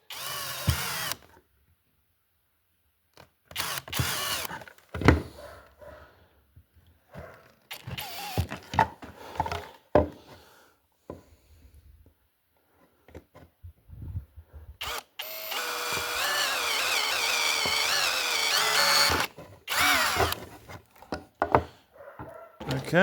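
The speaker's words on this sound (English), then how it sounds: "So now we're going to drill that out." Power drill drilling out a part during hopper assembly, heard in short bursts and one longer sustained whine near the end, close and fairly loud, separated by quiet gaps and handling clatter.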